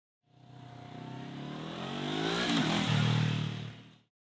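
Honda CBR500R 2024 two-cylinder motorcycle engine of about 470 cc, a steady close running drone that swells into a rev, rising in pitch, then holds loud before cutting off, with no talk over it.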